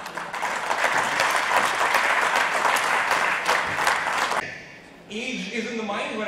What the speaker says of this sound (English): A big round of applause for him again.